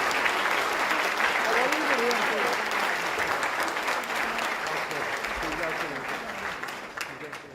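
An audience at a New York State wine awards event gives sustained, dense applause, with murmuring voices underneath, tapering off near the end.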